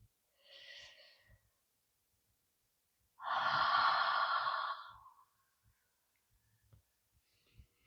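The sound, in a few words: deep breath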